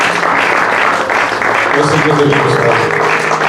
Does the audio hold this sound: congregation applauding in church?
yes